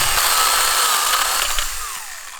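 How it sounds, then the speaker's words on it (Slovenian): A cordless hand saw runs while cutting a medium-thick branch during fruit tree pruning, its loud high-pitched motor whine steady and close, with the pitch sagging slightly toward the end as the cut finishes. "Tukaj imam še eno akumulatorsko ročno žago, zelo dobra zadeva, brez težav odreže srednjo debelo vejo."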